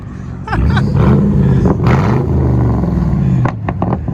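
A deep, rumbling Chevy Camaro SS 6.2L V8 with aftermarket exhaust revs up and roars loudly for a few seconds, then drops back to a throaty idle, heard from close by.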